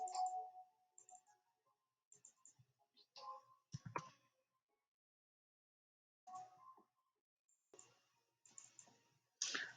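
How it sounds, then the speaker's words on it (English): A computer mouse clicks faintly and repeatedly in short pairs and bursts, spread across a quiet stretch with brief pauses between groups. "Make sure you're double clicking when you're coloring."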